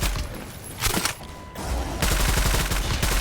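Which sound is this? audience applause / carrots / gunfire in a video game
gunfire in a video game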